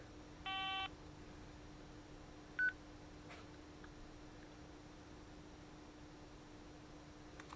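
An old mobile phone found in a dump chimes as it powers on: a short melodic tone sequence, then a single brief beep a couple of seconds later, faint over steady background hiss with no talk.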